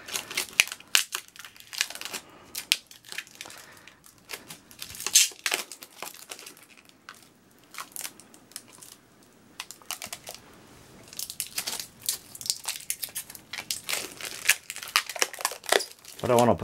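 Old, brittle plastic film is peeled slowly off a Robotron Mini arcade cabinet, giving a long run of close, crinkly tearing and crackling bursts with brief pauses, and someone speaks now and then.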